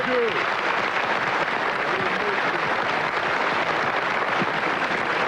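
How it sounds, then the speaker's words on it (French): Studio audience applause on a French TV comedy panel show, a steady wash of clapping that runs throughout, with a few faint voices rising briefly over it. "Applaudissez le monsieur."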